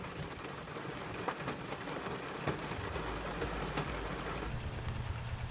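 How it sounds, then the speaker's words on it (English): Rain falling in a spring woodland, a steady soft patter and hiss that stays fairly quiet and continuous, with a low rumble beneath it toward the end. "then it started to rain"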